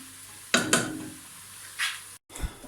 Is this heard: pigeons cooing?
no